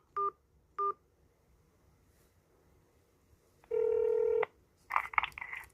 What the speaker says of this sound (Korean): 이하의 지역 번호를 눌러주십시오